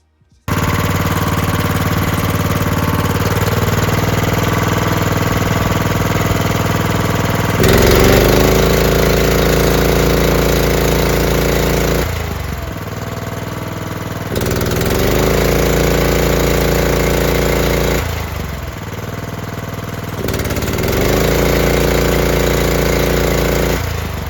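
A JCB HM25 hydraulic breaker, fitted without a chisel, runs on an engine-driven hydraulic unit, giving a loud, steady mechanical clatter and engine drone that cycle on and off in several bursts with quieter idle gaps between.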